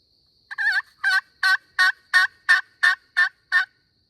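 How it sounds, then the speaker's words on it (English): A wild turkey gobbles in a rapid series of nine clear, evenly spaced calls, fairly close and loud against a quiet spring morning during Kansas or Oklahoma turkey season. "We got one gobble."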